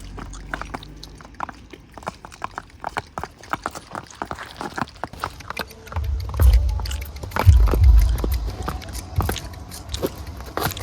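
A mare's hooves clip-clop in a steady rhythm, close by, with a louder stretch of heavier thuds and low rumbling partway through; no one talks.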